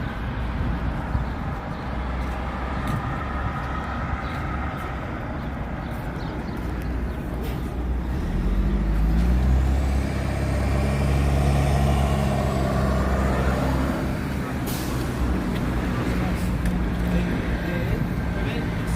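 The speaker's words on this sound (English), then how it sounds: "We got some buses here, big coach buses." Big coach buses rumble and idle amid downtown Montreal traffic, a low engine drone that swells midway as a bus passes close, with street noise and occasional voices around.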